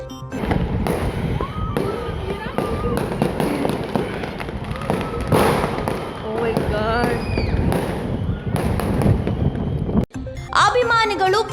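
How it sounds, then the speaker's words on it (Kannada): Royal Challengers Bengaluru cricket fans set off firecrackers to celebrate the team's title win after 18 years, with dense, continuous crackling bursts and whistling rockets ringing out alongside crowd voices and shouts. "ಅಭಿಮಾನಿಗಳು ಪಟಾಕಿ ಸಿಡಿಸಿ ಸಿಹಿ ಹಂಚಿ ಸಂಭ್ರಮಿಸಿದರು"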